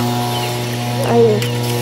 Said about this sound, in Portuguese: Mas isso daí é do soprador, uai.